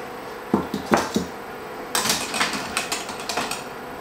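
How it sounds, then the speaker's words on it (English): Metal tongs clatter against a pot while lifting hot items out of boiling water during mozzarella making. A few sharp clinks come first, then a longer run of scraping, knocking metallic sounds, close by and with no speech. "I need my tongs, basically, to get all the hot stuff out."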